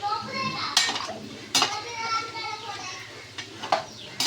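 A spoon stirs beef curry with potatoes in a pot, making a few sharp metallic scrapes and clinks against the pot at irregular intervals, close up, with voices in the background.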